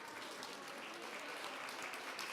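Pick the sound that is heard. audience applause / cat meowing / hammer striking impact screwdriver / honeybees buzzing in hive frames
audience applause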